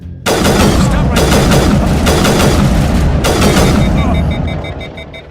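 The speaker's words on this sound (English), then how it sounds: "my gun is really powerful, and I increased the impact of it, so it's like super, super impactful" Powerful gunfire from the player's upgraded, high-impact gun in Mass Effect Legendary, a dense run of loud booming shots with heavy low rumble, packed closely together for several seconds before tailing off, with game effects and voices underneath.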